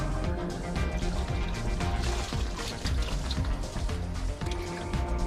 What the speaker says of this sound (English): Next, rinse out the recovery bag.